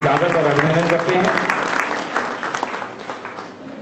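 An audience at a ceremony on a Jain pilgrimage journey applauds to welcome a guest, dense clapping that swells at first and then gradually fades, with talk mixed in.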